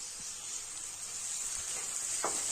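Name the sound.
chopped tomatoes added to hot pan, sizzling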